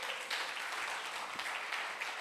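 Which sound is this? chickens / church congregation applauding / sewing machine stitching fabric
church congregation applauding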